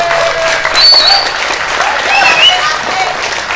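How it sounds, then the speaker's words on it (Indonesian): Audience applause during speeches at a hadroh festival at a mosque in an Indonesian village, steady clapping from a crowd with a faint tonal whistle or feedback tone over it. "Tepuk tangan."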